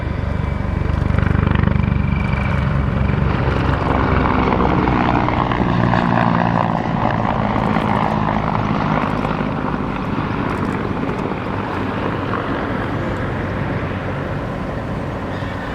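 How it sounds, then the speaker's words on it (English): Mi-35 Hind attack helicopter flying a solo display at an airshow at Duxford, its heavy rotor thump and turbine roar loud and sustained throughout, fading slightly as it moves away. "those markings are carried so proudly by the Mi-35, now performing"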